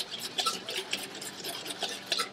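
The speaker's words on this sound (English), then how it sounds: "Whisk that together." A dressing being whisked together in a bowl, giving a quick rhythmic scraping and clinking that repeats steadily, close and fairly quiet, with no talking.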